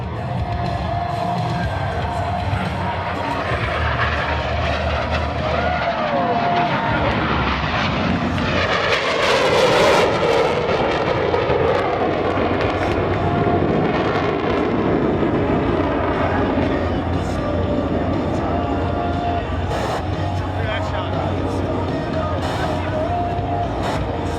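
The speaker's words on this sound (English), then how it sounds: "roll their aircraft to 90 degrees angle of bank and push forward on the stick as they perform the opposing knife edge pass" US Navy Blue Angels jets rolled to knife edge in an opposing pass at the Millville Wheels and Wings airshow, a loud sustained roaring jet noise swelling to a peak midway with crowd sounds underneath.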